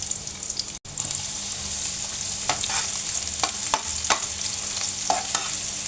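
Pasta is stirred in a sizzling pan, a steady close frying hiss with scraping utensil strokes, no talking.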